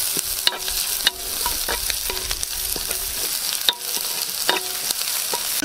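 Garlic and onion sauté in a hot pan for a balut stir-fry, a continuous sizzle broken by sharp, irregular clinks and scrapes from a stirring utensil.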